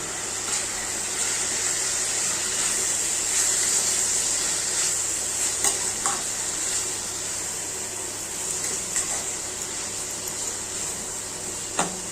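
Mung dal tipped into a hot pan for a vegetarian dish sets off a steady bright hissing sizzle that runs for several seconds, with a few soft clinks and no talk.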